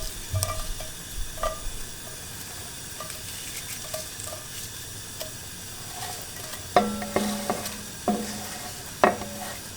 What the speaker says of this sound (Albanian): Edhe fërgojmë derisa të skuqet edhe të zbutet.